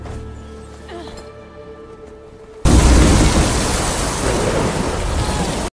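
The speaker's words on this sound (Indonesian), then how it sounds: "badai yang kencang menghantam kapal mereka" A violent ocean storm in a film scene batters a sailboat adrift in the Pacific, with a sudden loud crash of roaring wind, rain and pounding water after a quieter, tense opening.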